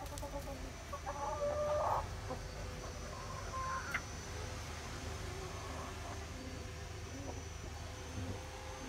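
Roosters and hens clucking softly inside a backyard coop, a low continuous murmur of fowl with a brief louder burst near the start, while someone talks intermittently.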